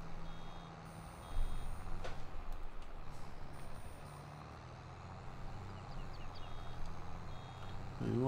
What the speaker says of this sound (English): It is beeping at us saying, I'm nearly full